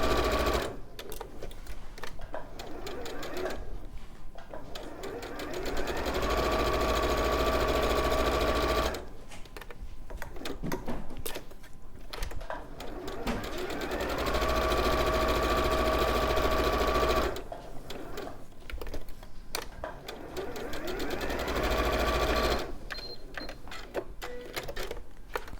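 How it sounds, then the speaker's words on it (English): Sewing machine stitching a 1/4 inch seam around the raw edges of fabric squares, running in three long buzzing bursts separated by short pauses, loud and close. "we're going to sew around all 4 raw edges using your 1/4 inch seam allowance"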